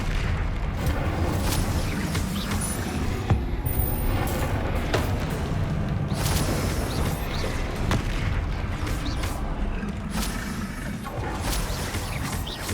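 Bombarda spell explosions in the wizarding action game Hogwarts Legacy, repeated booming blasts with mechanical clanks and crackles layered over a continuous rumbling battle din.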